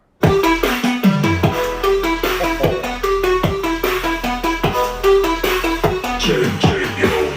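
Loud music from a small M10 Pro 150W Bluetooth speaker with punchy, heavy bass thumps and quick plucked notes in a steady groove, playing alone without talk.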